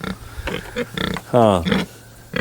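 Farm pigs give short grunts and a longer squealing oink at close range, with a person's brief questioning remark among them.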